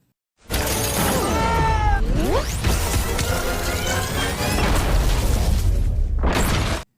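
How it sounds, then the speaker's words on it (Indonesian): A loud, sustained explosive crash as a robot blows up in a Sonic film, with shattering debris and whooshing bursts, cutting off abruptly. "Alhasil, robot tersebut pun meledak karena serangan dari Sonic yang bahkan ia pun tak menyadari hal itu."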